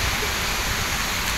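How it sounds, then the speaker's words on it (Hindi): Heavy rain pours steadily outside a church in Delhi, a dense, even hiss of downpour that holds at constant loudness through the short stretch with no voices over it. "बहुत तेज़ बारिश हो रही है"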